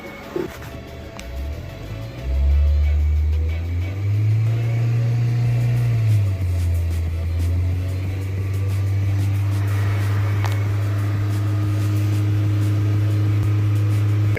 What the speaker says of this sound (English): I'm gonna get into the Toyota and rev it up.